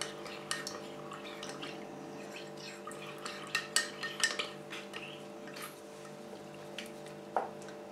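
A spoon stirs corn flour into half a cup of milk, giving faint, irregular clinks and taps against the container over a quiet kitchen hum, with a few sharper knocks in the middle.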